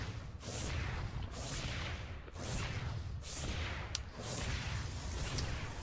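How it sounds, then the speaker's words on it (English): Photon cannons in StarCraft II firing on a Zerg hatchery give repeated whooshing blasts and low thuds in a roughly one-second rhythm, fairly quiet and even, with a couple of sharp clicks. "These cannons are slowly taking down this hatchery here"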